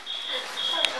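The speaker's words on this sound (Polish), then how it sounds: "Alarm." A beeping alarm sounds fairly close, with two sustained high electronic tones in quick succession and a short click at the end, while a voice speaks under it.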